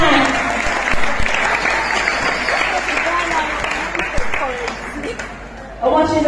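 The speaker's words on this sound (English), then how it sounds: "Clap her hand." A church congregation in Trinity Ville, Jamaica claps together in loud, dense applause that fills the room and carries on steadily. It thins near the end as a voice starts speaking.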